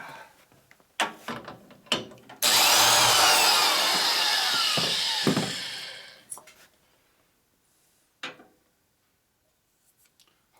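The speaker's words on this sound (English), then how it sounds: "Hard seat grind pretty easy." A powered grinder cuts a valve seat in a ported Harley-Davidson M8 cylinder head, making a loud, steady whir of about three seconds, framed by clicks and clunks of tool handling.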